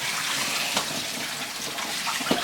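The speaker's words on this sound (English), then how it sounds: "now I want to use a little cold water" Cold tap water runs steadily in a kitchen while shrimp are drained for a shrimp cocktail, a continuous broadband hiss with small splashes, close and fairly loud, with no talking.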